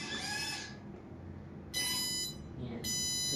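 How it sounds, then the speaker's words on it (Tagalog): A 3DBotics MM1 robot's electronic buzzer sounds in three bursts, loud and harmonic-rich, with a low mechanical hum between them. "the buzzer will buzz up"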